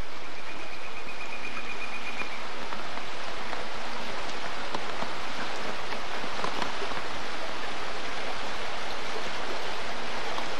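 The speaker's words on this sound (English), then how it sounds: "This is the creek that it crosses." Creek flowing under the wooden Academia Covered Bridge in Pennsylvania, a steady broadband rush of moving water, continuous and moderately loud, with no talk.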